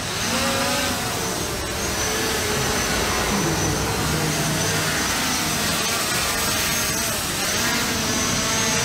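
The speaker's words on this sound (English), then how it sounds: "let's bring the drone back down real quick." A DJI Mavic drone descends with a steady, loud, broadband whir from its propellers. The sound holds constant and close throughout, with wind-like hiss mixed in.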